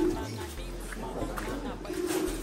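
Pigeons coo softly at a distance, a low repeated murmur under steady background noise and hum, with no other clear sounds alongside.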